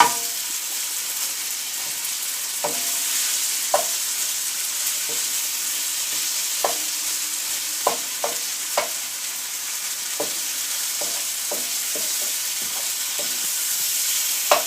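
Diced tomato chunks stirred in a pan of sauce, with a spoon scraping and knocking in scattered irregular strokes over a soft steady sizzle.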